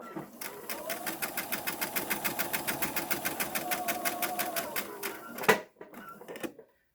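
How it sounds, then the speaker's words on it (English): Close, loud sewing machine running a steady rapid stitch through a pleated fabric face mask, back stitching at the start of the seam, then stopping abruptly, followed by a short burst of faster stitching. "I back stitch at the very beginning"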